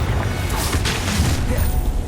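A Confringo blasting spell explodes in the video game Hogwarts Legacy, a loud boom with a sharp crackling burst, heard amid ongoing battle noise.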